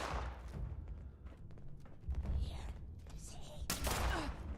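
Gunfire from a weak gun in Fallout 76, a sniper-build character: a dense, rapid burst of thudding shots, loud and close, running throughout with brief gaps.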